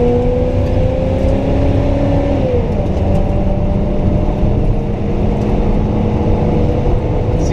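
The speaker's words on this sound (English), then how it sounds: "so we're going to do a full throttle flyby." A car passes at full throttle, overtaking a slow road grader: a loud, steady engine roar that dips slightly in pitch partway through as it goes by, with no talking.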